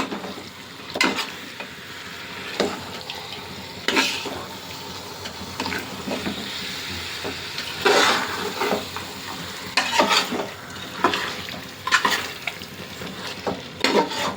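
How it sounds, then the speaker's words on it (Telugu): Marinated chicken pieces for biryani frying in oil, a steady sizzle broken by regular scraping stirs every second or two, close and fairly loud, with a faint watery trickle beneath. "10 నిమిషాలు ఫ్రై చేస్తే ఏమవుతుందంటే ఆయిల్లో చక్కగా ముక్కలు బాగా ఫ్రై అవుతాయి"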